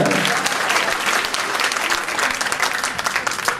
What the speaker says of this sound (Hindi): ताली बजाओ जोरदार ठाकुर जी के लिए।